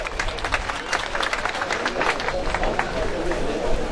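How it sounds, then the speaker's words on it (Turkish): A crowd at an open-air oil wrestling festival applauds to welcome the mayor, with dense, steady clapping mixed with chatter and voices throughout the few seconds. "Belediye başkanımıza, alkışlarımıza hoş geldiniz diyoruz ve alkışlıyoruz"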